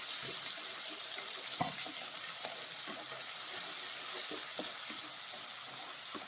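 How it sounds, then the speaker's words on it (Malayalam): Crushed ginger, garlic and shallots with mustard seeds sizzle steadily in hot oil for a Kerala curry, a continuous bright frying hiss with occasional soft clinks of a spoon against the pan. "നമ്മൾ ചതച്ച് വെച്ചേക്കുന്ന ഇഞ്ചി, വെളുത്തുള്ളി, ചെറുള്ളി എല്ലാം കൂടി ഇടുകയാണ്. നമുക്കിത് നന്നായിട്ട് വാട്ടാം."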